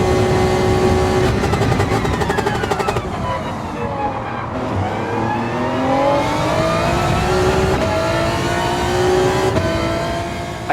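Inside a racing game, a race car engine howls and climbs through the revs as it powers out of a corner, with upshift drops and steadily rising pitch, loud, continuous and close throughout.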